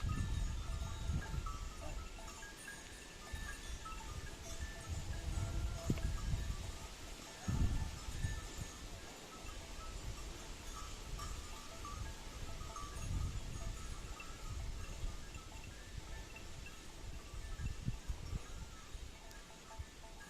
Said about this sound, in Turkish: Koyun sürüsü geliyor.